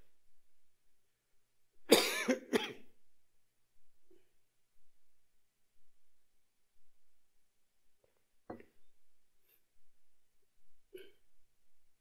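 A couple of sharp coughs close by from a speaker with a throat cold at a Buddhist temple New Year service, followed by quiet stretches with a few fainter, isolated coughs or throat sounds later on.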